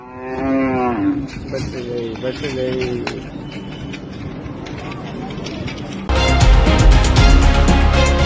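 A cow moos several times in drawn-out calls after becoming trapped on the front of a train. The calls are loud and close, they turn rougher and more broken as the sound goes on, and a sudden burst of louder, busier noise follows.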